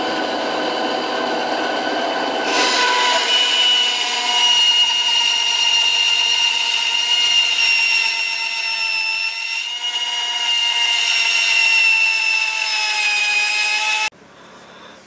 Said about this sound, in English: there's a lot of extra material here that I'm just going to try to hack off with my bandsaw